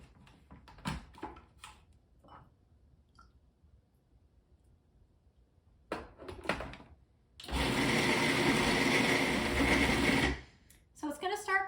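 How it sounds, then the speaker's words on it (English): Food processor blending dates into a dough for vegan brownie bites, running for a few seconds with a loud steady whir, preceded by clicks and handling noises, with a person speaking before and after. "So it's going to start coming together in the processor, and you're just going to want to let it keep going until it all forms into a single ball."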